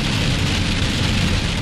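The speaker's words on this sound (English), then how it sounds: "You got snow and rain and sleet coming down right here." Rain mixed with sleet and snow pelts a vehicle driving in Utah, a dense, loud, continuous hiss and patter on the surface with low road rumble beneath.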